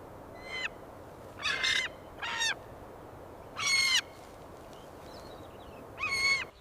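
Owl calling while being freed from wire and debris entanglement, five separate harsh, screechy calls spaced a second or two apart, fairly close and loud over steady outdoor background noise.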